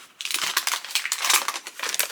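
Paper crinkles and rustles loudly up close as it is unwrapped, with continuous crackling and crumpling.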